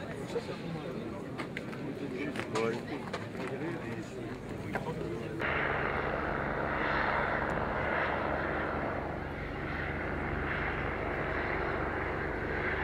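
A steady, droning radial aircraft engine hums loudly throughout, with a shift in tone midway; people talk intermittently over it.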